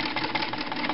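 A sewing machine runs at a steady clip while darning, its needle chattering in a fast, even rhythm, close by.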